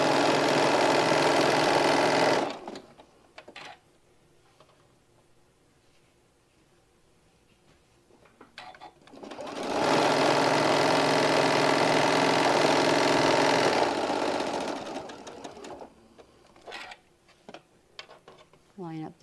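A sewing machine runs steadily while stitching a seam in two long, loud stretches, separated by quieter intervals of light handling and small clicks.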